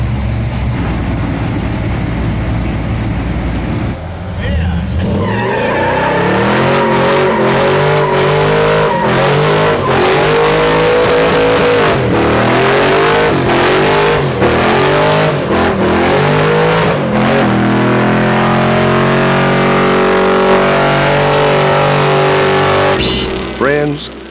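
A 400hp V8-swapped merch van revs hard and rips third-gear burnouts, its engine roaring loud and close in rising, falling surges with tire squeal. Voices shout under the engine noise.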